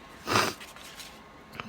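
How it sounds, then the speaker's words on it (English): A short nasal sniff near the start, then quiet breathy sounds and a faint second sniff toward the end. "excuse my sniffles, y'all."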